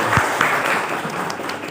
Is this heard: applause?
yes